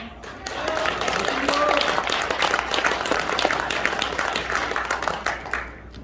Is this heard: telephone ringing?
no